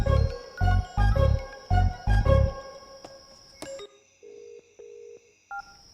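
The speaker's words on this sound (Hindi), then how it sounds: "ये भी ना बिना फोन उठाए मानेगा नहीं।" A telephone sounds with a run of electronic tones: several pulsing bursts, then a few sustained beeps that fade out. The tones are fairly close and heard alone.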